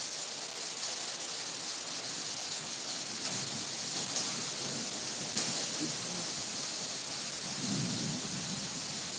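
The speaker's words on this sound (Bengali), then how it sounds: "দেখেন কি পরিমাণ বৃষ্টিটা পড়তেছে" Heavy storm rain near the Sundarbans pours in a dense, steady hiss, with low rumbles swelling briefly in places; continuous and moderately loud.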